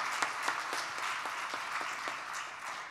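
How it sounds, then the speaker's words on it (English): Audience applause at a live stage show, steady clapping from a crowd with a few sharper individual claps standing out, moderately distant. "Can we give a round of applause for all the kids and everyone who came before us tonight"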